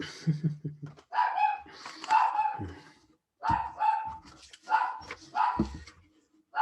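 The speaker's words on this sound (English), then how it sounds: "the dogs have to bark about it" Dogs bark loudly and close by in repeated, overlapping bursts as someone leaves the house, with a few higher yips between the deeper barks and no talking.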